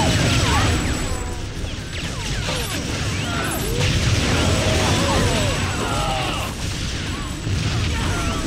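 A player blows himself up in the shooter video game TimeSplitters 2, setting off a dense, loud crashing blast amid a busy clatter of game effects that stays thick throughout.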